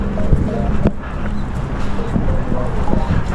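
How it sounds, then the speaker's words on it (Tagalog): Gusty wind buffeting the microphone on Haeundae Beach in Busan, South Korea, a loud continuous rumble with scattered thumps and faint background activity. "Medyo mahangin lang, no?"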